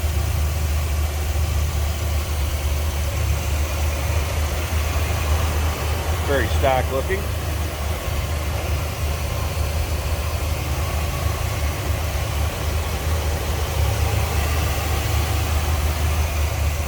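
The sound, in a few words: 1957 Cadillac Series 62 365 V8 engine idling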